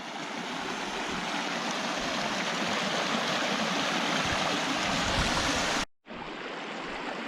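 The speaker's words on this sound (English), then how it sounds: "There's a waterfall for Boo-Boo." Small waterfall on Pleasant Creek in Capitol Reef, a steady close rush of splashing water held for several seconds, briefly cut to silence near the end before resuming.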